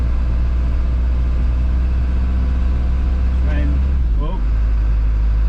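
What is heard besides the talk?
Isuzu NPR truck climbing a hill in snow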